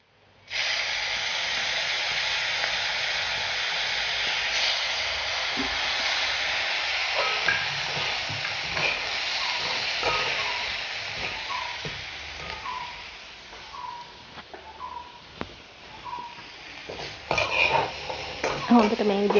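Chilli paste with chilli flakes, sugar and soy sauce sizzles steadily in a pan, a loud continuous hiss broken later by rhythmic scraping stir strokes as the frying settles and grows quieter.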